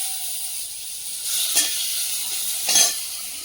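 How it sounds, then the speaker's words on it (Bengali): Tomato frying in hot oil makes a steady close hiss, broken twice by short louder bursts of sizzle as the pieces are moved around the pan. "টমেটোটা ভেজে নেব।"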